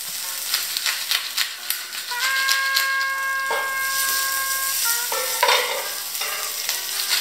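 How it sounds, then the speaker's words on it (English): Steady frying sizzle of carrots in a pan on a hot stove, with bursts of stirring and scraping, close by, with no talking. "you just add in that extra flavor by frying them on your hot stove"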